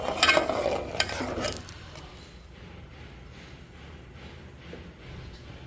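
Butter melting into ghee in a pan with an ice cube, a brief loud crackling sizzle and stirring at first that settles into a quiet, steady bubbling simmer.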